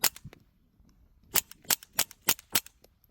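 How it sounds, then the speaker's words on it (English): A Taurus TX22 .22 pistol fires at a range: one sharp shot opens, then after a pause six quick cracks follow in a fairly steady rhythm, loud and close, with no talking. "That is a good shooting gun."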